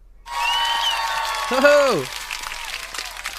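Video-game applause effect after a dart hits the target, a short synthetic burst of crowd clapping, moderately loud, with a voice speaking over it.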